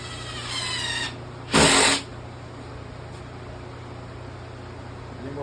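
A power tool drives a 2.5-inch screw into a wooden wine rack, with a short whirring burst followed by a louder, brief high-pitched spin, over a steady low hum.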